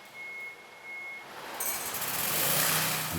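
Lorry reversing beeps: a steady high warning tone beeps over a low idling diesel engine, then heavier truck rumble and hissing noise take over and grow louder.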